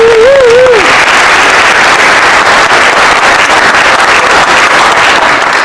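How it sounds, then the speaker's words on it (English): An audience at a Faces of DACA panel discussion and release celebration gives a round of applause. A loud, unbroken wash of clapping and crowd noise runs throughout, with a short whistle near the start. "So let's give them a round of applause."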